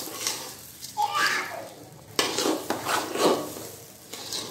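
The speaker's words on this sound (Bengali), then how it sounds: "এটা চালটা ভাজা ভাজা হয়ে গেছে" Kalijira rice being fried in a pot for pulao, with soft sizzling and scattered scrapes of a spoon against the pot, coming in short bursts, with no talk.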